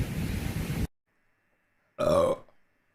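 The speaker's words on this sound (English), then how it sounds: "I burp though." Two loud close burps from a woman, a long rough one followed after a silent pause by a shorter voiced one.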